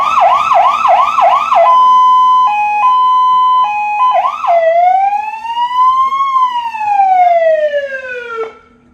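A fire engine siren, loud and close, opening with rapid warbling whoops, then steady held tones, before sliding into a long rising and falling wail that ends abruptly.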